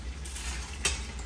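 Bacon sizzling in a hot pan on a stovetop, a steady bright crackle that stays even throughout, with one brief louder pop.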